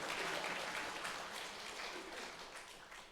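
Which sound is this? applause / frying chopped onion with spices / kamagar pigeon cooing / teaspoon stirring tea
applause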